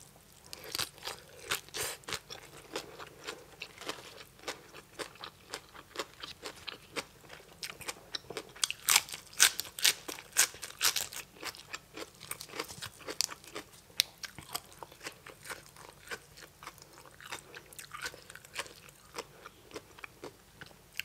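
Close, crisp crunching and chewing of spicy papaya salad with blood cockles, rice noodles, bitter gourd, cha-om and neem leaves, repeated bites with irregular loud peaks over about twenty seconds, with no talking.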